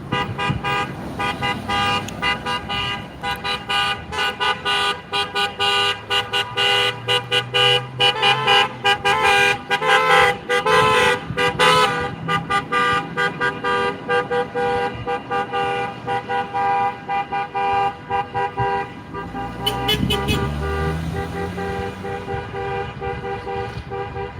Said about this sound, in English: you guys honk your horn.